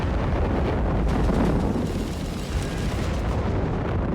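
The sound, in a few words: artillery strike explosions in Company of Heroes 3 video game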